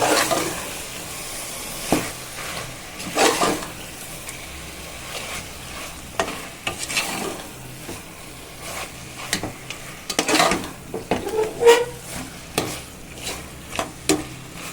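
A spoon scrapes and stirs through thick chicken masala in a pot, in irregular strokes over a soft sizzle.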